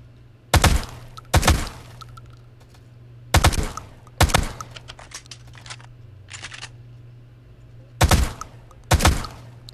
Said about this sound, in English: So let's take a look at this Saiga. This is an automatic shotgun.